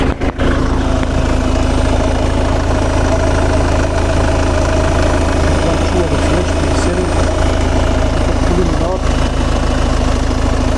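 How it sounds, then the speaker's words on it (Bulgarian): Ford Kuga 2.0 TDCi 4x4 diesel engine idling with a steady, even low rumble throughout, close and fairly loud, with a brief knock near the start. "ще я запаля да чуете как работи"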